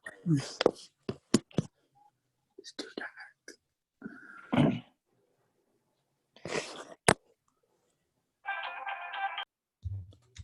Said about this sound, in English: That's Amy's phone